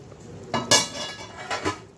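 A pot lid is lifted in a home kitchen while hilsa fish curry with eggplant cooks: a couple of short metallic clinks and clatters, close and fairly loud, with no one speaking.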